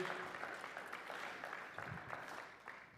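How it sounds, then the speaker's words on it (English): A church congregation gives a round of applause, a very faint, steady patter of clapping heard from a distance throughout. "will you guys give them a round of applause for representing Avenue?"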